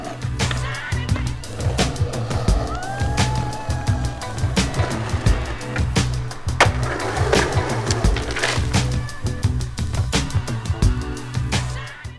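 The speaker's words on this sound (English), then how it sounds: "skaters in the streets, riding the product" Skateboard rolling along a street: a continuous close wheel rumble over the pavement, broken by frequent sharp clacks and knocks as the board hits cracks and bumps.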